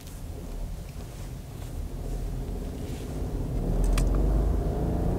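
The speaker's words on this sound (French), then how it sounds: "je ne sais pas si vous entendez le bruit du moteur, c'est un peu graveleux" Volkswagen Polo United city car driving, its engine giving a slightly gravelly low drone under steady road and wind rumble inside the cabin, swelling a little louder toward the end, with no talking.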